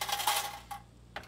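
Stainless surgical instruments set down in an empty bucket during instrument cleaning, giving a few light metallic clinks and rattles, close and fairly quiet, with no talk.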